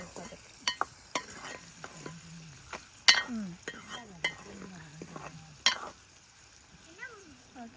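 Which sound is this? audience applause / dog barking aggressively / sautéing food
sautéing food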